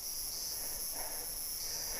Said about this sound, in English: Oh, there's some cicadas.